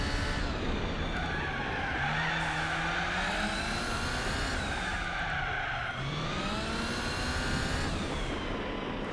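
In the Gran Turismo 4 racing game, a car's tires squeal and skid as it spins out: a continuous, loud screech that bends in pitch, with the engine droning steadily underneath and no voices.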